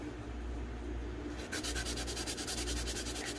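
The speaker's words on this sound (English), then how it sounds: "this is like 400 grit of fine sandpaper" Fine 400-grit sandpaper rubbing over a resin-coated tumbler, starting as a soft steady rub, then turning into quick, even back-and-forth strokes, close and clear with no talking.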